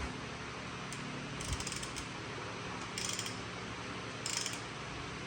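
Ratchet wrench with a swivel socket working the bolts on a Kawasaki KX85 dirt bike engine, giving faint clustered ratcheting clicks in three short bursts over a steady background hum.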